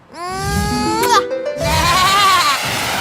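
A cartoon sheep bleats in two long, wavering, voice-like calls separated by a short break, loud and close with no talk over it.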